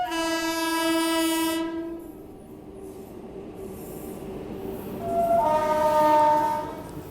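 A train pulls into Laksar Junction railway station, sounding a long multi-tone horn twice with rumbling wheels and railcar noise beneath, loud and close, with no talk.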